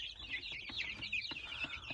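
Kuchinsky breed chicks give quick, high, repeated peeps and chirps, faint but steady, with no talking over them.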